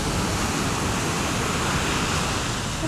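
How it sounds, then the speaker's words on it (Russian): Constant roar of sea surf at Nha Trang, Vietnam, a dense wash of noise with no distinct breaks, fairly loud and close, no voices. "море шумит."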